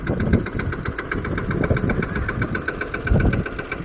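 A tractor engine chugs steadily at close range, a low rumbling idle with rhythmic knocking pulses and occasional heavier thumps.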